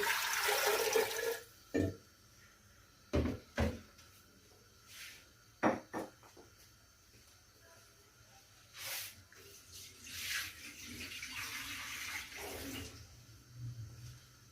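Water poured into a clay cooking pot (matti ki handi) for cooking whole black lentil dal, a splashy pour at the start followed by several short clinks and knocks of the pot, fairly quiet with pauses between.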